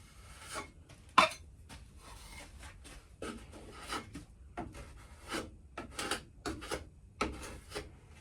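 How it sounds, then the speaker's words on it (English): A plywood wall inside a narrowboat galley is sanded by hand in short, uneven rubbing strokes with brief pauses, quiet and close, alongside a few faint knocks. "once this is all sanded back, it will come up all right"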